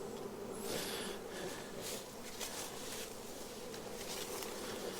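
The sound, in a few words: honey bees buzzing at hive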